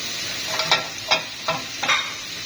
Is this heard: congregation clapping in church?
no